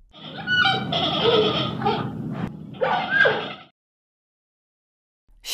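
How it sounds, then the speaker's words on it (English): Panda vocalizing with breathy, nasal bleats and huffs in two bursts, close and fairly loud, then silence. "Panda."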